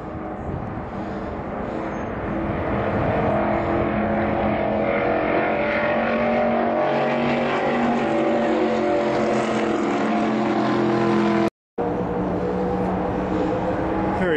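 NASCAR race car on its first lap, a loud engine roar building over several seconds, holding steady with strong harmonic drone, then briefly cutting out before it returns.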